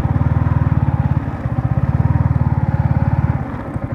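A motorcycle engine idles and putters close by while being parked, a loud rapid regular thumping that briefly falters, then resumes and settles lower toward the end.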